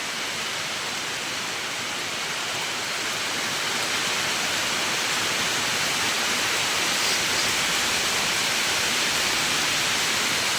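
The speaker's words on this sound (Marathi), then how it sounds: "आता पावसात भिजत भिजतच घरी जात जावं लागत आहे" Steady, dense rain falls without pause, a constant broad hiss that holds even throughout with no other sounds standing out.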